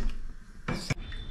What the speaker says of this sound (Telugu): ఒక బాండి పెట్టుకున్నారు